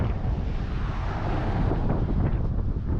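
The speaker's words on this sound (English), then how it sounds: "It's a little windy up here." Steady, heavy wind buffets the microphone with a constant low roar at about 6,200 feet up in the mountains, no voices.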